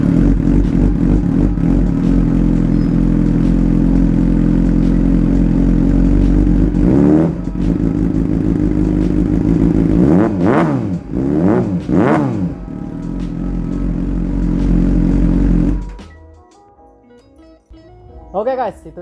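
A Suzuki GSX-R600 K8 motorcycle with an SC Project exhaust idles loudly, then revs sharply three times with rising and falling howls before shutting off, ending in quiet with a faint brief rev at the end.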